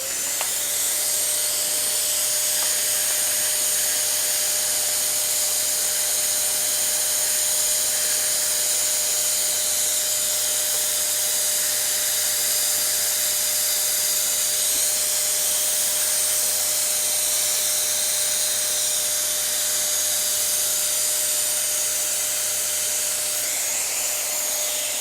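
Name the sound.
vacuum cleaner running for track ballasting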